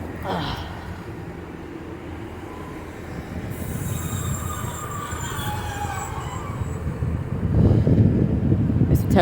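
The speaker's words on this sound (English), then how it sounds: "Oh, and the Exmouth trains here." Exmouth line train passing along the coast at Starcross, Devon, with steady rolling wheel rumble, rising high metallic wheel squeal midway and growing louder toward the end; faint voices beneath.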